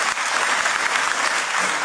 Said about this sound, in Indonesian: Kita kasih tepuk tangan dulu yang dahsyat